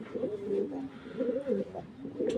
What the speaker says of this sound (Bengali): নটা ডাকতেছে।